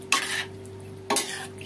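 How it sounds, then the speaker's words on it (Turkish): Chopped garlic being stirred into a pickle mixture, two short scraping bursts about a second apart over a steady low hum, close and fairly quiet, no talk. "Şöyle onları da karıştıralım."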